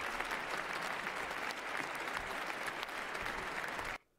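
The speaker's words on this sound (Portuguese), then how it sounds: "Mais uma vez o povo se levanta para aplaudir ele de pé." A crowd at Donald Trump's inauguration applauds during a standing ovation, producing a steady, dense wash of clapping and cheering that holds for about four seconds and then cuts off abruptly.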